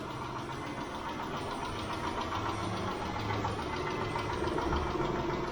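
A warmed-up Mitsubishi 6G72 engine idles with a steady, rapid ticking knock from its hydraulic lifters, continuous and close throughout with no talk.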